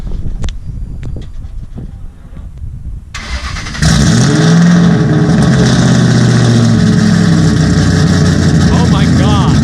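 Shelby GT cold start with blown mufflers, quiet clicks and faint talk, then the engine catches with a sudden loud raspy roar and settles into a heavy, rumbling high idle, voices over it.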